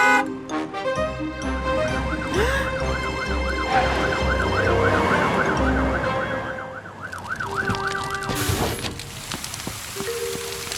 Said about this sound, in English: They're brumming too loud to hear Fiona's siren.